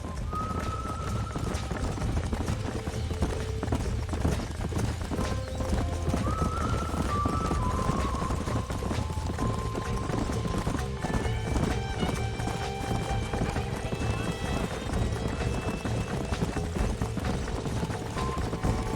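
Horse hooves clip-clop steadily as the animals run, with occasional whinnies and neighs over a dense, continuous bed of game music and ambience in Red Dead Redemption.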